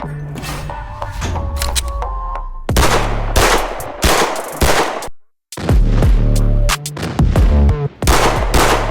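A Ruger RXM pistol fires loud, sharp shots in quick bursts and strings, with short gaps between groups, close and dominant.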